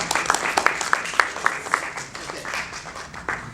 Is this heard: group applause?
yes